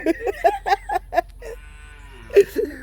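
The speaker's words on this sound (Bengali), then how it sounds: "ওইদিকে ওর ডাক শুনে গরু ডাকতেছে" A cow moos, a drawn-out low call near by, preceded by a quick series of short vocal calls and followed by another brief call.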